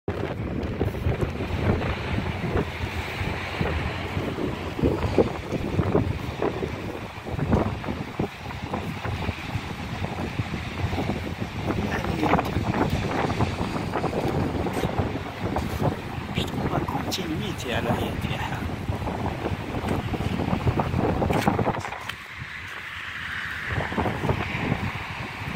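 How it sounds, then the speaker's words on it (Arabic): Strong wind buffets a new seaside quay near the marina on the Bay of Algiers, roaring and gusting continuously with a rattling metallic buzz from vibrating metal bars, and a voice is heard intermittently. "شوف من شدة الرياح، من شدة الرياح، شوف هذه القضبان هذه كيفاش راهي تفيبري"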